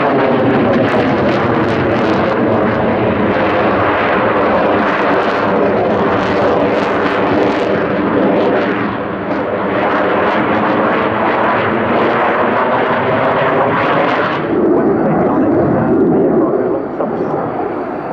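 A Polish Air Force MiG-29 Fulcrum jet roars loudly and steadily through an air display at the Royal International Air Tattoo, its engine noise sustained and broad with a shift in tone near the end as an announcer talks over it.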